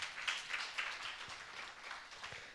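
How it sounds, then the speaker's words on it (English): An audience applauds a World Food Programme representative at a project launch event, a faint, distant, steady patter of clapping with no voices over it. "we give a hand of applause to WFP representative"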